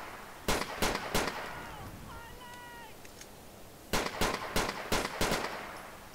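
Gunfire in the video game GTA IV: two bursts of three and five sharp, loud shots, separated by a quieter stretch with a brief electronic chirping tone.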